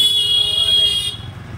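A vehicle horn at an evening fair blares loudly as a steady, shrill tone, then cuts off abruptly, leaving low background rumble.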